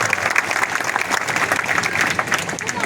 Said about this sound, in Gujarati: દિલથી બે હાથ વડે ખૂબ જોરદાર તાળીઓના ગડગડાટ સાથે તેનું અભિવાદન.